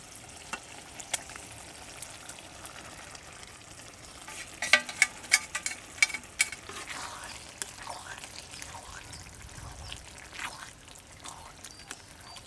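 A fenugreek-leaf egg curry being stirred in a pan, with a steady sizzle and soft scraping and clinking of the spoon, one brief run of sharper taps midway.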